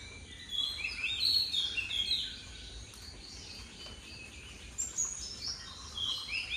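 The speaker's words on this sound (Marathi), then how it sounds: "पक्ष्यांचा आवाज पण येते एकदम नीट ऑब्झर्व केला तर नक्कीच ऐकायला येईल." Birds sing outside on a morning in a Konkan village, with bright chirps and tweets rising and falling at moderate distance over a quiet background with faint insect buzz.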